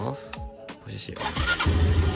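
A carbureted motorcycle fitted with an engine cut-off switch cranks with a few uneven starter bursts, then catches and settles into a steady close idle, with a voice talking over it.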